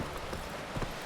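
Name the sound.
horse hooves in The Witcher 3 video game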